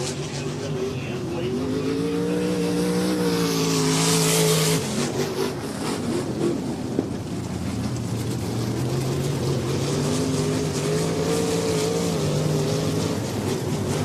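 RaceSaver super sprint car engines drone steadily around a dirt track at the Lucas Oil POWRi Independence Nationals, their pitch rising and falling as cars pass, loud and continuous under an announcer's voice.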